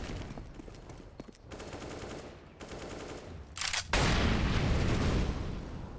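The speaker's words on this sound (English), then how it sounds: "Hell of a lot of grenades being used here" Grenades and gunfire in Counter-Strike on the Inferno map, with dense crackling bursts and booms building to a loud, sustained roar of explosions near the end, no talking.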